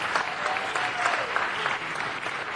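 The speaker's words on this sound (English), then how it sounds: "Let's give them a round of applause for all that they do." Brief, even applause from a city council meeting audience honouring a local Junior League group, a dense patter of many hands holding steady throughout.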